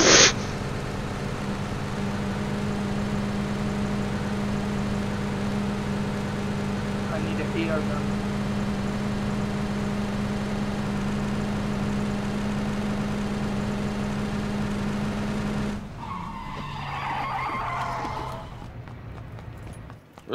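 Idling dirt bike engine in the game PUBG, a steady low drone running loud and unbroken for most of the span before cutting to a rougher, shifting mix near the end.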